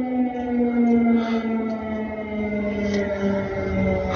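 Wartime civil defense air raid siren howling continuously, a loud sustained tone that wavers gently in pitch with faint background noise beneath it.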